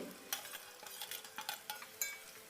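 Stuffed brinjals for a Tamil oil-based kathirikai kulambu get stirred in a pan, with a series of soft scraping clinks of a spoon against metal over a faint sizzle, fairly quiet and unaccompanied by talk.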